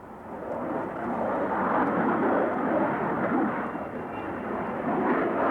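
A Harrier jet flying a display at a 1984 UK air show, a loud continuous engine roar that swells steadily and holds throughout, with no speech.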